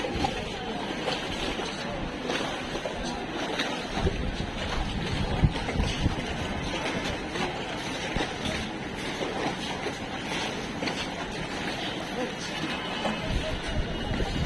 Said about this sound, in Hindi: ये देखिए पानी का लहर, कितनी तेजी से लहर आ रही है पानी